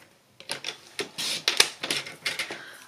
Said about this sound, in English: I'm going to cut a 1/2 inch strip